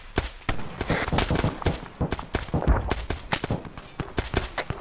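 Gunfire at a firing range in a tactical military exercise, a rapid, dense run of sharp cracks and bursts that continues almost without pause for several seconds.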